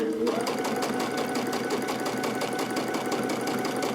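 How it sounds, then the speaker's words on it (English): A sewing machine with a quilt binding foot runs steadily and close, its rapid needle clatter continuous while overstitching and backstitching a quilt's binding, with a voice talking over it. "we'll just overstitch a little bit where we began and backstitch"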